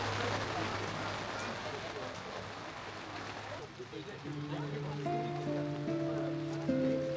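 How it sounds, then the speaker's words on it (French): Steady rain falls at an outdoor medieval fantasy festival, a continuous hiss and patter throughout, with people talking faintly in the background and a low hum that drops out partway. "J'aime beaucoup cette ambiance sous la pluie"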